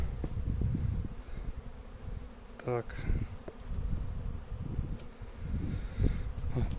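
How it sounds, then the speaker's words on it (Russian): Honey bees hum steadily around an open hive with a queen-rearing starter box of frames, a dense close drone with individual insects buzzing past, and a short spoken word partway through. "Вот пчелы работают"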